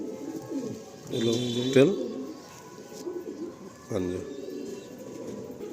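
Pigeons held at a sale give low cooing calls, two clear bursts standing out while someone talks over them nearby.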